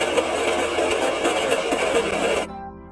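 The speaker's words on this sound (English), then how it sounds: "The engine still did not successfully awaken." An MG Metro Turbo engine cranks over repeatedly without catching, a steady dense churning that runs loud and close for about two and a half seconds before cutting off abruptly into near silence.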